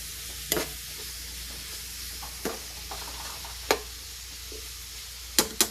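Beef for bistek tagalog frying in a pan while being stirred, with a steady background sizzle and several sharp, separate scrapes and clacks of the utensil against the pan.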